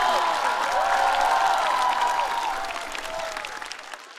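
An audience at a stand-up comedy show cheers and applauds loudly, a dense wash of clapping and whoops. It fades gradually toward the end, with no speech.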